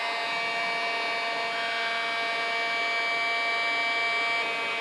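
A heat gun blowing hot air onto plastic BMX pegs, a loud, steady whining rush of air with a constant tonal hum and no pauses, close up and alone.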